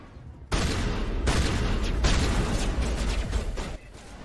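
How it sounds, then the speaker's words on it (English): Gunfire crackles in The Witcher 2 video game, a loud sustained volley of shots and booms that erupts suddenly after a brief quiet and rattles on for several seconds. "What are you guys shooting at?"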